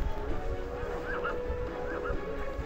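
A horse in the WildCraft video game gives short neighs and whinnies, two brief high wavering calls over a busy background of game sounds, moderately close.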